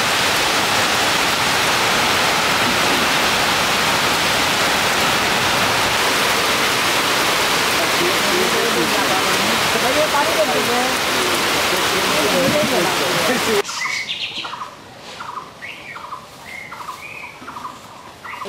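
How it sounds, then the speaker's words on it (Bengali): Steady rain pours outdoors during an Eid al-Adha gathering in Bangladesh, a loud dense hiss for most of the stretch before cutting abruptly to quieter surroundings where faint birdsong and distant sounds remain. "বৃষ্টি শুরু হয়ে গেছে, এখন ভিজতে হচ্ছে।"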